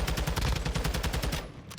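Rapid gunfire in a competitive shooter video game, wall bang shots fired through cover in a fast rhythmic burst of a dozen or so sharp reports, loud and close, ending abruptly.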